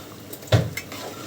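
A single close metal clank of a utensil against a cooking pot while stirring khichuri, followed by a fainter knock in a quiet room.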